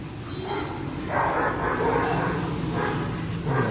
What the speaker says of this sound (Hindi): बड़ी खतरनाक आवाज है। कुत्ते अच्छे हैं, जर्मन शेफर्ड है।